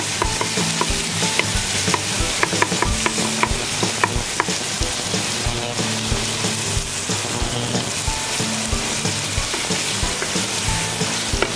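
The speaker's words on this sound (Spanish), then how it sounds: "Vamos a echar nuestra zarandaja." Zarandaja beans stirred in a hot pan for a Piura-style atamalado, frying with a steady loud sizzle and repeated scraping stir strokes throughout, no talking.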